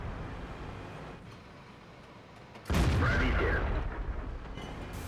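A tank cannon shot booms in World of Tanks, fired from a hull-down position at a WZ tank: a single heavy blast lands mid-clip and rumbles on, with quieter battle ambience before it.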